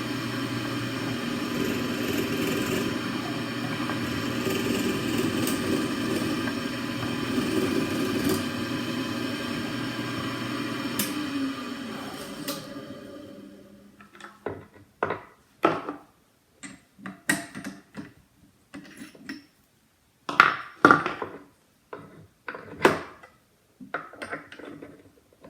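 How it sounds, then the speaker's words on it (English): Hole being drilled for a cleat on a West Wight Potter sailboat: a steady, fairly loud drill whine runs for about twelve seconds, then fades into scattered sharp knocks and clicks. "drill the hole"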